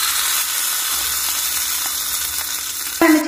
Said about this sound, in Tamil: இப்போ வந்து காஞ்ச மிளகாய் போட்டுக்குவோம் ஒரு டேஸ்ட்டுக்காக.